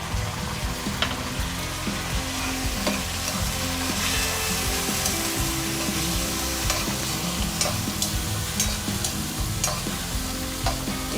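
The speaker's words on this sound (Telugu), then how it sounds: "టమాటో ముక్కలు కూడా మగ్గాలండి." Onions and tomato pieces sauté in a pan for a fish curry, with a continuous close sizzle and frequent spatula scrapes and taps throughout, and no one speaks.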